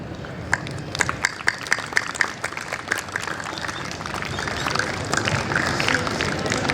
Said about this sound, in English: our teachers deserve a huge round of applause